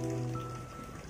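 Steady heavy rain falls on a surface as a dense, even hiss with a low hum beneath it. It is continuous, fairly faint, and there is no talking.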